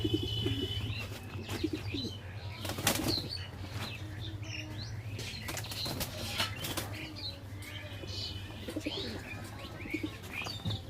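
Bhopal pigeons flap their wings in a loft after a deworming dose, with bursts of wingbeats alongside soft coos and occasional chirps, close and moderately loud with no talking.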